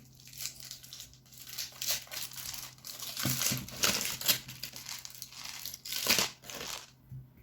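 Crinkly foil wrapper being torn open and crumpled from a Smarties milk chocolate bunny figure with sugar-coated chocolate drops, close and loud in repeated rustling bursts with no talking.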